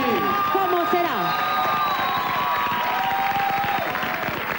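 Applause and cheering from a festival audience in Paraguay welcoming a folk singer to the stage, a loud, steady crowd roar with tonal music or voices over it throughout.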